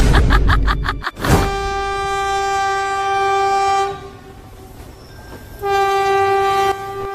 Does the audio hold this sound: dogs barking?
no